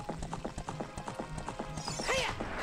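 Horse hooves clip-clop at a steady trotting rhythm in Zelda: Ocarina of Time, followed near the end by a short, loud whinny.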